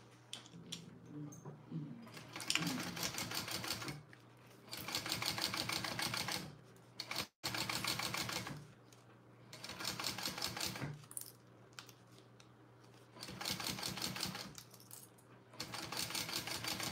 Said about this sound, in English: I'm going to just top stitch along the top here.